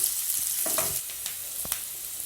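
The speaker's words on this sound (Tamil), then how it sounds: "பெரிய வெங்காயம் போட்டுக்கோங்க அது கூடவே கருவேப்பிலை பச்சை மிளகாய் போட்டுக்கோங்க வெங்காயம் நல்லா வதங்கட்டும்" Sliced onions, curry leaves and green chillies sautéing in a pan, a soft steady sizzle with a couple of brief scraping stirs, close and alone.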